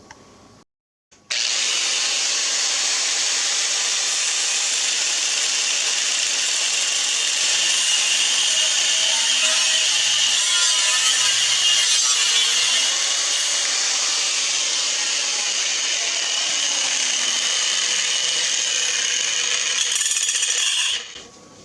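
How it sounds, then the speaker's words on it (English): An angle grinder with a cutoff wheel slices through a steel crankshaft clamped in a vise, a loud, close, continuous high-pitched whine that runs for about twenty seconds before abruptly stopping. "The goal is to cut it off right here. I'm going to use the cutoff wheel"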